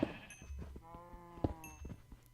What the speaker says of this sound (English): because I still hear my sheep.